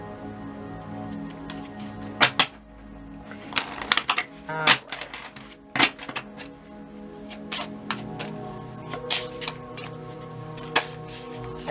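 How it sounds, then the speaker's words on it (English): An oracle deck being shuffled by hand, with irregular papery riffles and snapping card clicks close up, a brief spoken word near the start. "One more shuffle, y'all."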